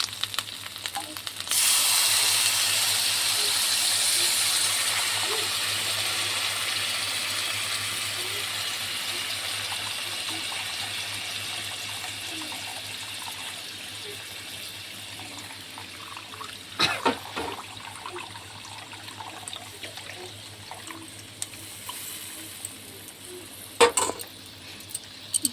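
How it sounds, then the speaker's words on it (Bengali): Coconut milk poured into a pan of spiced prawn malai curry sets off a loud hissing sizzle that starts abruptly and slowly dies down over many seconds into a soft bubbling simmer, with a couple of light clinks near the end and no talking. "এবার দেবো এটা নারকেলের দুধ।"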